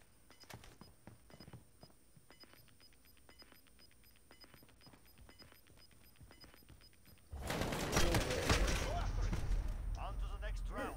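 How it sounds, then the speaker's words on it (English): Gunfire in a video game during a duo tournament: scattered sharp shots rise to a dense, loud burst of rapid fire near the end, with players talking over it. "now he's shooting at you"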